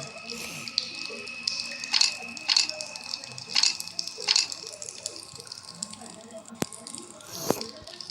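Water leaking from a pipe in a horror video game: a few separate drip-like splashes land a second or so apart over a low, murky background, fairly faint and close.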